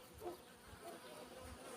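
Honeybees buzz inside a hive during a midwinter colony reduction, a faint, continuous droning hum with soft fluctuations and no talk.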